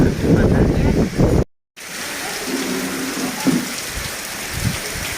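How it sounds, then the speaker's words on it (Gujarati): Steady heavy rain driven by wind during the monsoon's arrival, a loud continuous hiss and roar with gusty rumble, cut by a brief silent gap. "પવન સાથે વરસાદ,"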